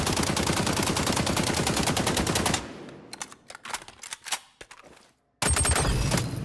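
Rapid automatic AK rifle fire in a video game shooting gallery, loud sustained bursts at the start and end with a stretch of scattered single shots and quieter gaps between.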